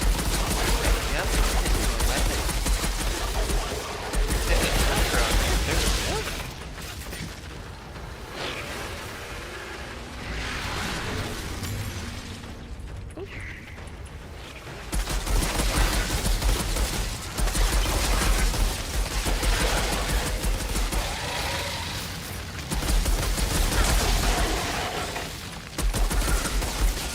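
Rapid bursts of video game gunfire with infinite-ammo pistols, loud and dense, coming in clusters separated by brief lulls, with a voice talking over parts of it.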